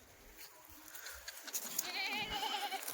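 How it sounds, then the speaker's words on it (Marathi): Sheep bleat several times against a quiet outdoor background, the calls growing louder and more overlapping toward the end. "तुम्हाला मेंढ्या वगैरे दाखवतो मी"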